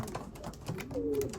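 Racing pigeons cooing inside a loft, soft low murmuring coos layered close together, with one clearer drawn-out call near the end and a steady quiet background.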